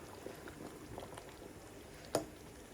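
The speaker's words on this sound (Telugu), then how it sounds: "రైస్ ఉడుకుపెట్టింది." Basmati rice boiling in leftover chicken gravy, a quiet, low bubbling with soft pops and one sharper plop near the end.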